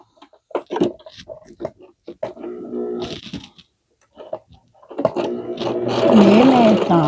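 A sewing machine stitches piping onto the edge of a jumper. Scattered taps and short mechanical bursts, with some vocal sounds, lead into a continuous close whirring run of stitching over the last two seconds.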